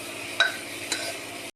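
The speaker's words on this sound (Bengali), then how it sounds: "তারপরে আঁচটা হাই করে পুরো নাড়তে থাকবো" Marinated chicken fries in a pot over high heat. Two quick scrapes from a stirring spoon ring out against a low background sizzle, close and fairly soft.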